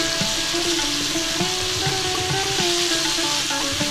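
Chopped garlic stir-frying with chicken and shrimp in a pan for mixed gravy noodles, giving a loud, steady sizzle with tossing and scraping throughout and no voices.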